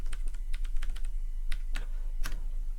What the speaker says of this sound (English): and type the subnet mask.